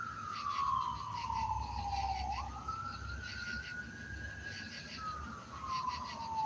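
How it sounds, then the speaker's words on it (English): An emergency vehicle siren wails steadily in the distance, its pitch sweeping down and then back up, while insects chirp in a rhythmic pattern over a low outdoor rumble. "Oh, siren."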